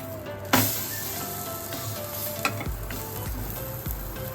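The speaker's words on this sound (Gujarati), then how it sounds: "જે આ શેકેલી રોટલી છે એને પલટાવી દઈશું" Leftover roti frying in a hot pan, a steady close sizzle throughout with a few sharper clatters as the pieces are flipped and stirred, no voices.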